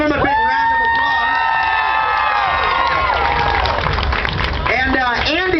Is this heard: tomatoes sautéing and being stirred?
no